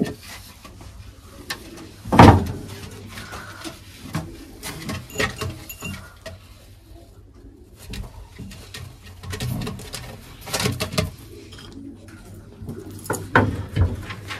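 Pigeons shuffle and flutter inside a box with soft cooing and scratchy patter, close by, with one louder thump early and scattered bumps throughout.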